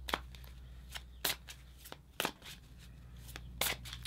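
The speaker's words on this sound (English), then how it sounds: "These cards are flying out." Tarot cards shuffled by hand: a series of crisp riffling flutters and snaps at an irregular rhythm, close and fairly quiet over a low background hum.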